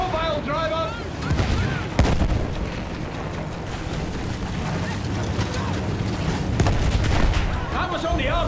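Battlefield 1 combat: bursts of gunfire and heavy artillery thuds rumble through a chaotic battlefield mix, with shouted game voices near the start and end.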